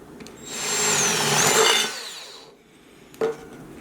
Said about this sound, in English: I recommend drilling a hole in each of the 4 corners